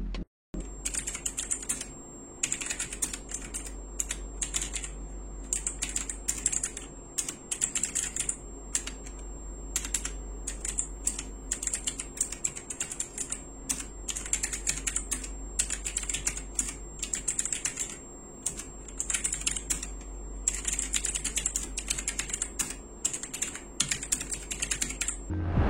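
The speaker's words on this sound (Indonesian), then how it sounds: "ini menggunakan blue switch yang cukup clicky." Steady typing on an Aula Wind F2058 mechanical keyboard with clicky blue switches, close and crisp, with rapid irregular keystrokes continuing for the whole stretch over a faint low hum.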